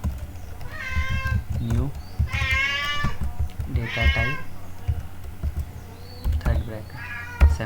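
A pet cat meows loudly several times from nearby, with long drawn-out cries breaking in between a man's speech while keyboard taps sound faintly underneath.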